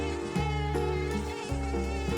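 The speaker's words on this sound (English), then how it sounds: "Oh, I just killed a mosquito." Mosquito whining in a Brooklyn park, a steady high-pitched buzz held close and loud throughout, wavering in pitch as the insect moves.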